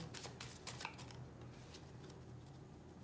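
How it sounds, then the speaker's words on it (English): A deck of tarot cards being shuffled by hand, with quick, faint riffling and flicking sounds, busiest at the start and settling into a soft, papery hiss. "Last shuffle that I take from the middle of the deck"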